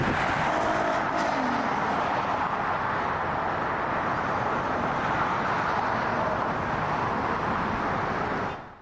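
Traffic on Interstate 94, the Ford Freeway, gives a steady broadband road roar of passing cars, loud and continuous until it cuts off at the end, with no talk.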